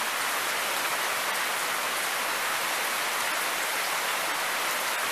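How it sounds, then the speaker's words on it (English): Steady rain from Hurricane Lane falls continuously, an even dense hiss of drops with no pauses and no voices. "I just thought you guys would like to have some more rain for your dry places."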